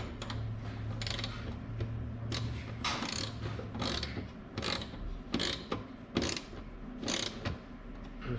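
Screws are driven into the instrument cluster of a 1966 Chevelle with a new bezel, producing repeated close ratcheting clicks in short bursts over a low steady hum.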